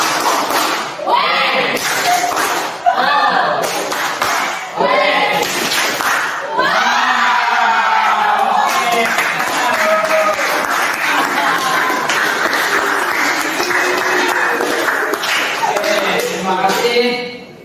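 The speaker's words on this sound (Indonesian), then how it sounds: "Oke, 1, 2, 3, tepuk wow" A counseling group in a classroom performs a rhythmic clapping chant, with bursts of voices chanting in unison, patterned claps and thumps, then a stretch of continuous clapping and calling out together.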